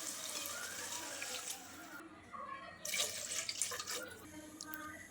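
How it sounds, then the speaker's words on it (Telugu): Water pours steadily into a cooking pot of rice already salted for bagara rice, a close, continuous splashing rush that swells slightly toward the end. "ఇప్పుడు ఇందులోకి మనము 1 గ్లాస్ రైస్కి 2 గ్లాస్ ఆఫ్ వాటర్ని వేసుకోవాలండి."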